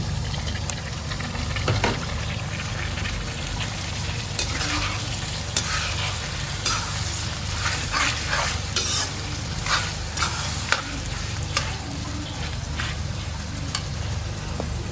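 Tomatoes tip into onions frying in oil for a fish curry, bringing a loud, continuous sizzle with repeated scraping and clatter of a spoon stirring the pan, steady for the whole stretch and free of talk.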